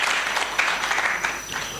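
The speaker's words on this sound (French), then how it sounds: "Sous vos applaudissements, s'il vous plaît." Audience applause at a school quiz competition between lycée teams, a brief burst of dense clapping heard near and fairly loud, with no voices over it.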